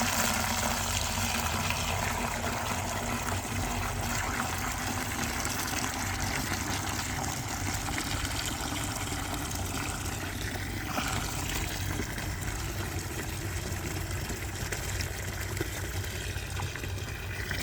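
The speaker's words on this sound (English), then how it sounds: "Fill it with non-chlorinated water." Steady rushing non-chlorinated water running continuously into a bucket, a dense broadband wash with a low mechanical hum underneath, no voices.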